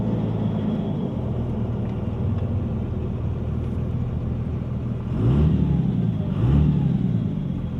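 A car running a 150HP tune on stock injectors and a stock turbo pulls hard, its engine droning steadily before rising in pitch with two surging revs near the end, heard close and alone.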